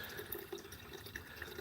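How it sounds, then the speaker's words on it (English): Tap water runs into a jug or jar as it is refilled, a faint, close trickle and splash with light dripping, alone without talk. "So then just refilling the jug"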